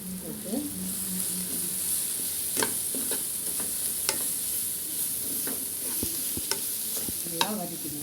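Chili powder, turmeric and garam masala sautéing in a pan for bread rolls, a steady close sizzle broken by sharp scrapes and clinks of a spoon stirring against the metal, with brief background voices.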